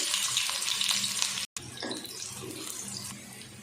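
Chopped onions tip into half a cup of hot ghee in a kadai and fry with a steady, broadband sizzle, briefly cut off for a moment midway before the hiss resumes at the same level.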